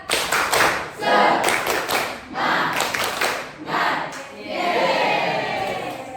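Rhythmic group clapping from a biology class doing a spirited clap-along ice-breaker, several bursts of claps in a steady pattern, loud and close, ending in a longer patch of continuous clapping.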